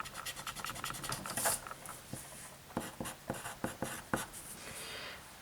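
Marker or chalk writing on a board in a geometry class, a run of quick scratchy strokes with short gaps between them, close and fairly quiet, with no voice over it.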